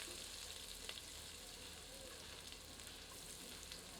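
Chopped onion sizzles in hot oil in a pan for a crab curry masala, a steady faint frying hiss with soft crackles throughout, with no talking.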